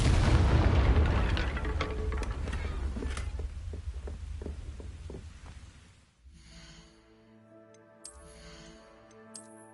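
A Confringo spell explodes in Hogwarts Legacy with a heavy, booming blast and a trail of crackling debris that dies away after about six seconds, giving way to quiet tonal game music with a few soft chimes.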